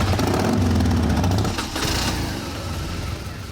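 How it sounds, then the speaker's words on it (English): Electric and petrol motorcycles start up and rumble loudly together at close range, a thick low engine drone that eases off partway through and settles into a lighter steady hum. "Gentlemen, start your engines."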